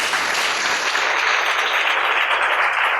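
Sustained, dense applause from an audience at a CPR workshop, with steady clapping at an even loudness throughout and no other sounds standing out.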